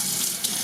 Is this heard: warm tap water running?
yes